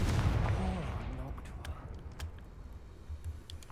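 Confringo fire spell cast in the video game Hogwarts Legacy, a loud booming burst at the start that decays into rumbling crackle, with scattered faint pops afterward.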